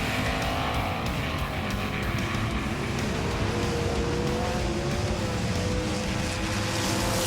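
A Naked Evo race car launching hard out of the gate toward turn one, its engine roaring loud and continuous as the pitch climbs through the gears over dense track noise.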